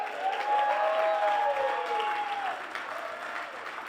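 Applause from a comedy club audience at an IT-themed live show in Tempe, a moderate wash of clapping heard alongside a sustained tonal hum or feedback, easing off near the end.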